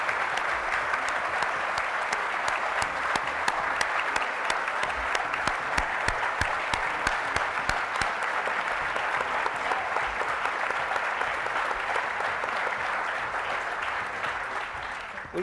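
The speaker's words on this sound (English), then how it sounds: "Let's give them all a round of applause again." Sustained audience applause at a 2012 healthcare heroes volunteer awards event, a dense, steady wash of many hands clapping at even loudness throughout, with no voices rising above it.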